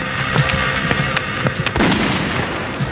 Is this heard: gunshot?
yes